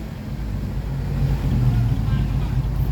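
A farm tractor's engine drones steadily and strains louder as it pulls a ten-wheel truck stuck deep in mud.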